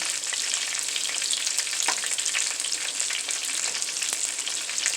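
A tablespoon of canola oil sizzles in a pan with a dense, continuous crackle and occasional spatula clicks. No one speaks.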